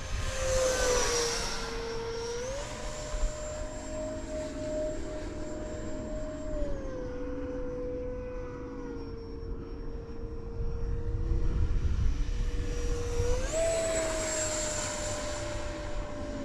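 A 70mm electric ducted fan RC jet, an FF 35V2, whines steadily overhead as it flies, its pitch rising and falling smoothly with throttle changes and passes, with no talk.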